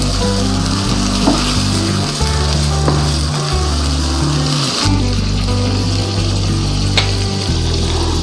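Mutton liver (kaleji) frying on a tawa, a steady close sizzle with low stirring and scraping noise running continuously throughout, no voices.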